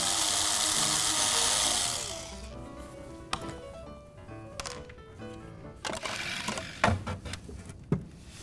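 Power drill driving a screw into laminated furniture panels: a loud sustained whirring drill run for about two seconds, then quieter scattered knocks, clicks and handling sounds of the work.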